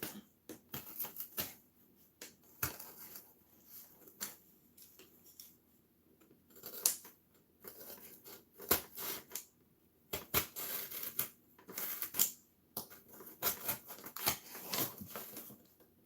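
Scissors cutting a paper template, close and quiet: a run of irregular snips, crisp clicks and paper rustles with short pauses, no talk.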